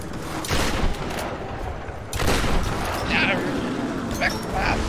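Shotgun blasts in the Tomb Raider video game, several loud booming shots in a fast exchange of gunfire, with a player talking over the action.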